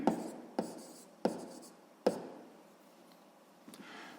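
A pen writes a math answer on paper in a few sharp strokes, with four distinct scratchy onsets followed by a fainter stroke near the end, close and quiet.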